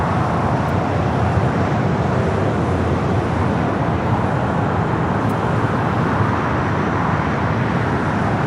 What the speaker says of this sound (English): United Flight 32, it's a 787-9 Dreamliner heading to Tokyo Narita, now rolling down. 25 right here on the south side